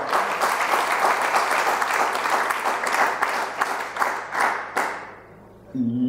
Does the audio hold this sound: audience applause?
yes